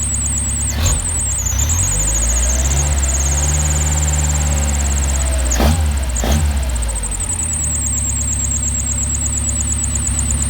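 A Mercedes 190SL engine idling steadily at around 1,000 RPM on a test run, with a loud, even low rumble, a high whine and a couple of brief clicks or knocks, with no speech.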